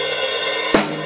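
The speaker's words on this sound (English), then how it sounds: "we stop on the first beat of the bar and we have a fill on the snare drum." Drum kit playing a snare-drum fill at the end of a bar: a sustained, ringing mixed texture followed by two sharp, loud snare cracks near the end, with no voices.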